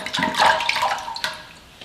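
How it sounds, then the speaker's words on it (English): Distilled water splashed onto the face to rinse it: a loud, close, wet splashing burst of running and sloshing water, with no talking. "I'm gonna add more distilled water again to rinse my face again. And now I'm just gonna like do this splash."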